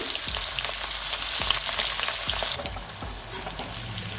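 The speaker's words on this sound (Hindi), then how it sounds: "और अब हम फ्राई करेंगे ये गोभी।" Cauliflower pieces, boiled in salted water beforehand, sizzling and crackling in hot oil, with a few stirring knocks of a utensil against the pan; steady frying noise, no talking.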